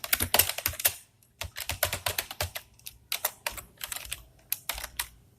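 Keystrokes on a computer keyboard while code is typed, an irregular run of close, crisp clicks in quick bursts with a short pause, heard alone.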